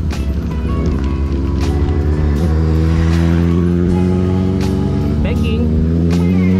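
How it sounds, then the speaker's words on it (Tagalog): A motorcycle passes on an uphill road during a long-distance ride to Baler, its engine rising over steady continuous vehicle and road rumble, with voices talking throughout. "May motor."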